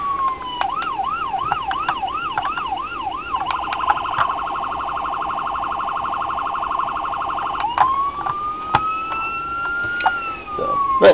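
A diecast Ford Interceptor Utility police model sounds its electronic siren, cycling through wailing, rapid yelping and steady tones, loud and close, with a few sharp clicks between tone changes.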